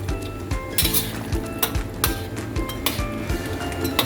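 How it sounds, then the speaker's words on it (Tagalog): Chicken afritada simmering in a pan as tomato sauce goes in, with a steady sizzle and bubbling under repeated clinks and scrapes of a utensil stirring against the pan, close and busy throughout. "Idagdag na natin ang tomato sauce."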